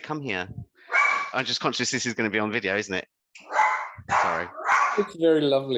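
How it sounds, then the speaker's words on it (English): A pet dog barks and yips indoors during an online meeting, close and intermittent, with a person speaking over and between the barks. "Oh, sorry, that's my dog."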